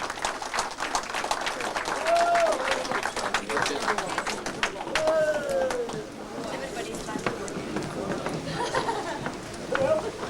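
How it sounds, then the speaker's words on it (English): A crowd applauds at the opening of an Irish club in Watford in 1992, dense steady clapping that carries on for several seconds with chatter and voices mixed in. "So can we have a round of applause please for our ambassador, Mr. Joseph Small."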